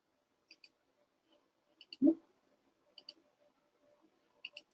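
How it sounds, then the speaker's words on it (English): Computer mouse clicks on a web client, quiet paired taps repeating every second or so, with one brief duller knock midway over a faint low hum. "I am just clicking all of these to show you that we have a lot of different options"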